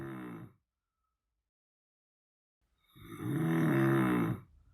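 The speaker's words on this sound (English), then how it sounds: "It does sound like snoring." Loud, rumbling snoring from behind a thick oak door: one snore fading at the start, then a long silence and a second, heavier drawn-out snore.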